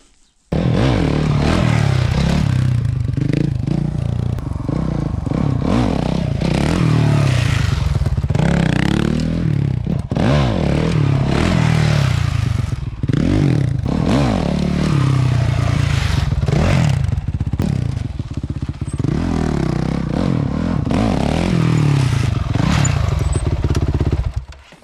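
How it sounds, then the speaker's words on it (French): Motorcycle held in a wheelie with the rear fender rubbing the ground, engine loud and close, revving in surges, with scraping and clattering bursts throughout and no talk. "Donc vous allez faire un wheeling, ça va frotter assez rapidement."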